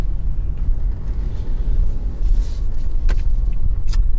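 A car accelerating on a road before merging onto a highway, with a steady low engine and road rumble throughout and a few faint knocks and clicks inside the cabin.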